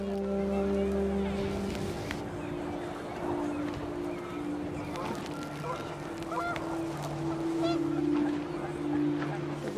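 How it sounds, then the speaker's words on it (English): Panicked geese honk in the video game What Remains of Edith Finch, repeated nasal calls over wind and a low sustained drone, with a voice audible underneath. "The wind picked up, and panicked geese appeared and quickly went."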